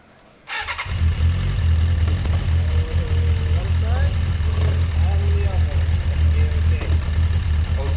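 A motorcycle engine fires up about half a second in and settles into a steady, loud idle close by, with no revving, while a person talks briefly over the rumble.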